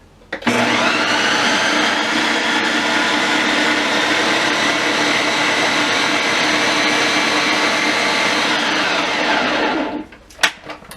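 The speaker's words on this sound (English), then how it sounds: "So I'm going to put the lid on my processor, and let's turn that on." A food processor with the lid on runs continuously for about ten seconds, cutting butter for a pie crust, with a loud, steady whirring drone that starts abruptly and then stops, followed by a few faint clicks.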